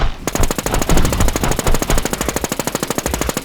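Rapid automatic gunfire in the video game Infestation The NewZ, fired at a boss: a loud, close, unbroken stream of evenly spaced shots lasting the whole stretch.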